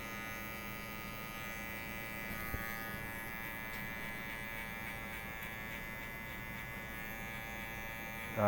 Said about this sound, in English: Now I'm going to close my clipper up halfway.